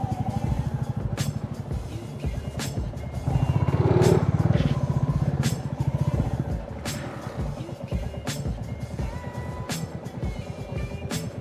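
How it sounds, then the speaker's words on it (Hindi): A motorcycle rides into a court parking lot, its engine putting out a close, steady throbbing putter that swells briefly as the rider revs, then settles to a lower idle, with occasional sharp clicks and clatter. "लो जी कोर्ट की पार्किंग में लगा दी हमने बाइक।"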